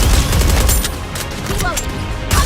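Rapid gunfire from Goddess of Victory: Nikke crackles in quick repeated bursts, close and loud, mixed with battle effects and a voice talking over it.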